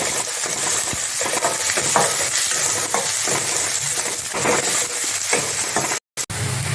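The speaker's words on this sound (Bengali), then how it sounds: "এখন আমি তেলের মধ্যে পেঁয়াজ কুচি দিয়ে দিচ্ছি" Finely chopped onions frying in hot oil for palong paneer, a dense continuous hiss and sizzle heard close, broken by repeated scraping stirs and a brief dropout near the end.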